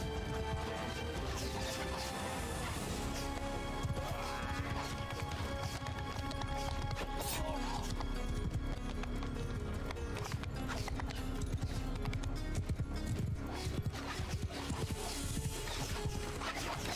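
Galloping horse hooves in the video game Mount and Blade Bannerlord, fast rapid clip-clop mixed into a busy battle soundscape with crashes and game noise, steady and fairly quiet throughout.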